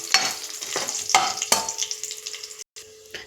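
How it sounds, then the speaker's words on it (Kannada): Garlic and dried red chillies fry in a hot pan with steady sizzling, punctuated by several sharp stirring scrapes, close and fairly loud, and a brief pause near the end. "ಈ ಬೆಳ್ಳುಳ್ಳಿ ಮೆಣಸಿನ್ಕಾಯಿ ಎಲ್ಲ ನೀಟಾಗಿ ಫ್ರೈ ಆಗಿದೆ"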